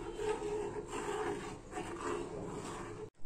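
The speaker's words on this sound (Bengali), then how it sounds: "এবার অনবরত এটা নাড়তে হবে দুধটা।" Milk stirred continuously in a pot while making rosogolla, giving a soft, steady scraping and rubbing sound in close, gently swelling strokes with no talk.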